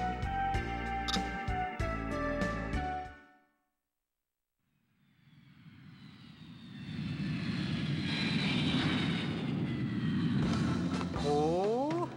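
An airplane engine in a Detective Conan video game on PlayStation: after music cuts to brief silence, a steady loud aircraft drone swells in and holds, with a rising whine near the end.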